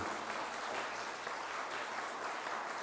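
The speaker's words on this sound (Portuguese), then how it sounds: "dá uma salva de palmas ao Senhor Jesus." A church congregation applauds during a service, producing a dense, steady wash of clapping heard at moderate distance without pauses.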